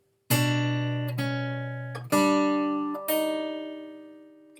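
A measure of Beethoven's Romance in F is played on a bowed string instrument, four sustained notes of about a second each with clean bow changes, close and clear, alone without talk.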